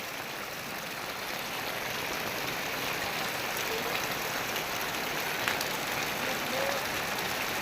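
Heavy rain falling in a village, a steady dense hiss of drops pattering on surfaces that holds evenly throughout, with no voices.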